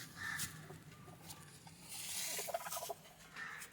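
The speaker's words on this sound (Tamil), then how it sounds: "கூட்டுக்குள்ளே வேற ஒரு அடை கோழி இருக்குன்னு நினைக்கிறேன் ப்ரோ" A brooding country hen inside a coop, giving scattered clucks and gobble-like calls at moderate distance amid rustling, with no talk.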